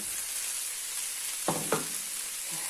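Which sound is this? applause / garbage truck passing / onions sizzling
onions sizzling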